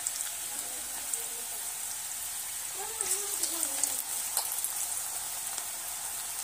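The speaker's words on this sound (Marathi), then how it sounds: "हे पहा तेल गरम चांगलं झाल्यावर कसं भजी चांगल्या प्रकारे भाजतात।" Onion bhaji fritters crackling in hot oil, a steady bright sizzle with scattered pops, fairly close, while a voice talks briefly over it.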